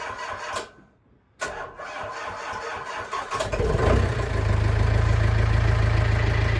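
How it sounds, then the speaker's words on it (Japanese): A small fishing boat engine cranks with a few rough turns and a brief pause, with choke pulled in cold winter weather and a weak battery, then catches and settles into a loud, steady idle. "これ引っ張ってちょいと馬力上げてエンジンかけるとかかるんですね。"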